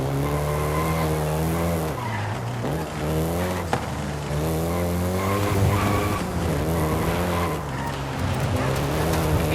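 Volkswagen Golf GTI driven hard in the Forza Horizon 5 video game, engine revving up and down through gear changes with tires squealing and skidding, loud and close throughout.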